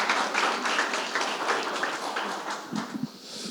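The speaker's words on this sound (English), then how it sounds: "Another round of applause, ladies and gentlemen." Applause from an audience at a community center's 50th anniversary building dedication: a dense, steady wash of clapping that holds throughout and thins slightly toward the end.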